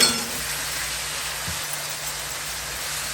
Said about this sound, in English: And all I'm doing here is browning. Just browning it.